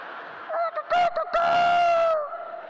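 A performer's voice imitates a rooster crowing during a comedic improv show, giving a loud, drawn-out cock-a-doodle-doo with a few sharp rising bursts, close and alone.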